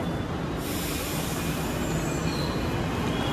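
A train pulls into a station with a loud, steady rumble of wheels and carriages that fills the whole stretch, a faint high squeal rising near the end.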